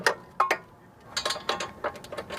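A ratchet wrench clicks in short bursts while brake caliper bolts are tightened on a Mazda 626, quick metallic ticking strokes close by with brief pauses between them.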